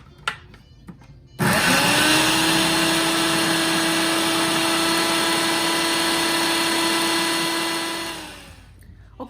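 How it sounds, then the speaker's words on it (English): A food processor grinds broccoli, starting abruptly with a loud, steady whirring hum. It holds constant for several seconds, then winds down and stops. "So I'm gonna use my food processor here. I'm gonna put it all into here. And we're gonna grind this up."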